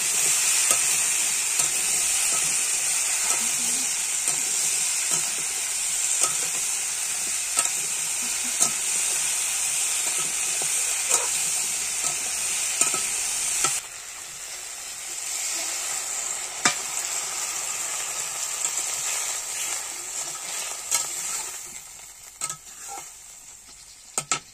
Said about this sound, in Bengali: হলুদ আর নুন হাফ পরিমাণ দিয়ে দিয়েছি ফোড়নে একসাথে দিয়ে এটাকে ভালো করে কষিয়ে নেব।